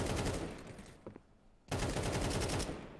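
Rapid bursts of gunfire from Counter-Strike 2, played on the Vertigo map, crackle loud and close, break off into a short quiet gap, then resume as dense sustained shooting.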